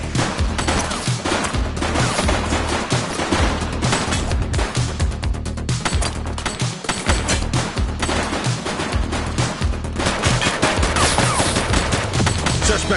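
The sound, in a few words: gunfire from suspect in video game The Precinct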